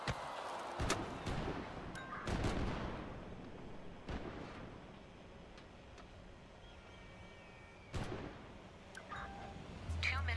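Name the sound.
pistol gunshots in a shooter video game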